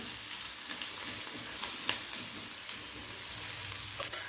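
Chopped onion and garlic sizzling in hot oil with a pinch of asafoetida, turmeric and cumin, a continuous soft crackle and hiss with occasional sharper pops, moderately quiet and alone without talk.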